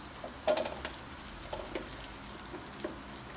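Onion sautéing in a pan with garlic already fried golden, cooked for Pork Binagoongan: a soft, steady sizzle with faint crackles and a few light stirring scrapes, fairly quiet and close.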